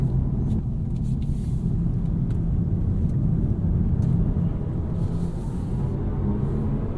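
BMW i4 xDrive40 electric car driven briskly through corners on a road test, giving a steady low road and tyre rumble with wind noise that holds at an even level throughout, with no talking.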